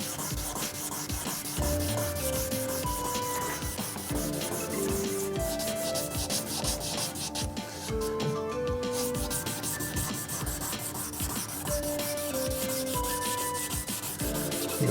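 Close, continuous hand sanding with 600 grit sandpaper on the body panel of a Gardner Douglas 427 Mk4 AC Cobra replica kit car, a steady rhythmic rasp of back-and-forth strokes, with faint music in the background.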